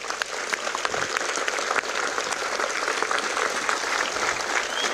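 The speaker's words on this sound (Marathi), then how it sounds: "त्याच्यासाठी एकदा तुम्हाला सर्वांसाठी शिवभक्तांसाठी जोरात टाळी आवाज आहे" Loud, sustained applause from a large audience at a gathering honoring Shiv devotees, dense steady clapping throughout with a few cheers rising from the crowd.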